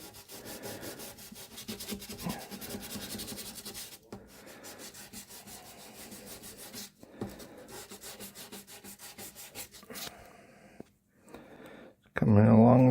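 Gentle rubbing on the surface of a Takamine TD 32 guitar, a 1991 reissue, producing a soft, steady back-and-forth scuffing that runs for about ten seconds before pausing, followed by a short louder burst.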